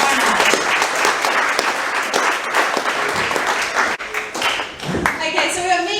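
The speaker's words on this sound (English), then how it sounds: "give these guys a round of applause" A crowd at an advice night for the PIC Coastal Classic race gives a round of applause, loud sustained clapping from many people, fading toward the end as voices come in.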